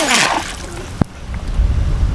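A waterproof SwellPro SPRY race drone drops back onto water after an acro flip, with a brief rush of spray, a sharp single splash, then soft sloshing and lapping outdoors.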